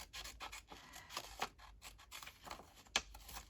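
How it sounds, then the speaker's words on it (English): Scissors snip paper for a Christmas junk journal in a quiet, close series of short, uneven cuts, with one sharper snip near the end. "So we'll snip around here"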